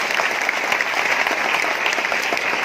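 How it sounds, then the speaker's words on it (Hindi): An indoor audience at a business seminar gives sustained, dense applause from many hands, loud and even for the whole stretch with no speech over it. "तालियां बड़ी देर में बजाई"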